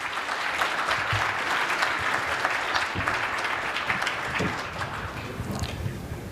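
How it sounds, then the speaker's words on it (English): Audience applause fills the room after a pitch at a university innovation challenge, steady dense clapping for several seconds that thins slightly toward the end. "One more round of applause."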